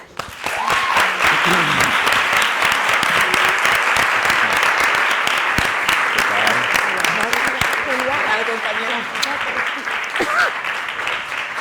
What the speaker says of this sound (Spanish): vamos a dar un fuerte aplauso a Roberto Enríquez